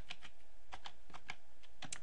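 Keys clack at an uneven pace on a computer keyboard as a folder name is typed, close and fairly quiet, with about a dozen distinct strokes and no voices.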